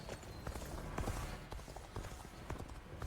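Rapid clip-clop of a horse's galloping hooves in the video game Dynasty Warriors Origins, steady and continuous over a busy background, with no one talking.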